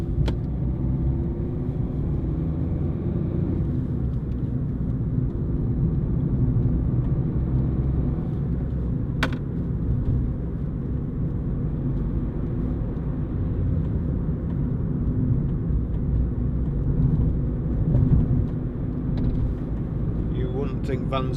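Interior drive in a Ford Fiesta 1.4 TDCi diesel panel van, with a steady low engine and road rumble throughout, a brief sharp knock near the middle, and someone talking over it.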